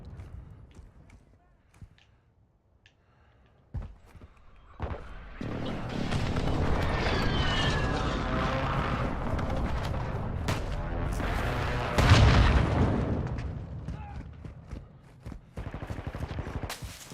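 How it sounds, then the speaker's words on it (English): Explosions from an enemy precision airstrike in Call of Duty: Modern Warfare II on Xbox roll on as a sustained, loud barrage of booms and gunfire, with a heavy hit near the end and game voice lines over it. "Enemy precision airstrike."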